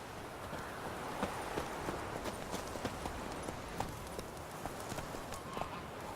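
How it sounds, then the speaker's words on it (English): Hoofbeats of a horse galloping in the Witcher 3 video game, a steady rapid clip-clop rhythm running continuously over a dense background wash of ambient game noise. "Run, Roach"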